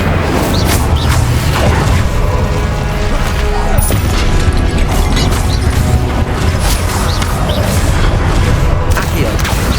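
Incendio fire spells cast in Hogwarts Legacy, a loud, dense run of booming bursts and crackling crashes layered over one another throughout, with some muffled voices underneath.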